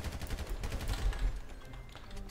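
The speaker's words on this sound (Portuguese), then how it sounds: "Vou trocar uns tiros aqui com eles." Rapid bursts of gunfire trade back and forth during a shootout in the GTA RP video game, with dense, continuous automatic shots and no talk.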